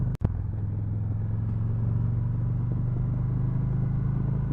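A Victory Cross Country motorcycle engine rumbles steadily while riding, a close, continuous low throbbing drone with wind noise, broken only by a brief click near the start.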